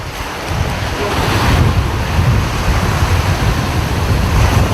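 Strong ocean waves crash steadily onto the shore, a loud continuous roar with wind buffeting the microphone and no voices.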